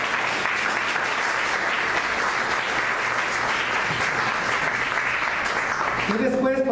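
A church congregation gives a round of applause to God during a service, dense continuous clapping filling the room at steady volume, with a voice starting to speak over it near the end.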